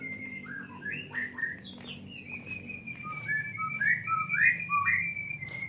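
A caged white-rumped shama (murai) sings a run of clear, varied whistles and chirps at close range, rising and falling over a low steady background hum with no talk.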